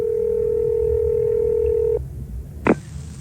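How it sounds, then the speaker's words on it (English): A telephone handset line holds a steady dial tone for about two seconds, then drops to quiet line noise before a single short bright dialing beep sounds as a number is being dialed. "Right, I'll just dial his number now, Mrs. Tribley."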